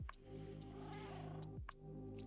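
A cat meows in the Minecraft video game, a short in-game call heard under a steady background hum, with a second faint call following shortly after.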